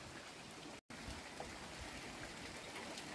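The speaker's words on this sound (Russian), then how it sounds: "Дождь нужен. Дождь нужен. Куда ж мы без дождя-то?" Steady rain falls outdoors on a June day, a continuous even hiss of drops and trickling water with no voices, briefly cut by a short gap of silence.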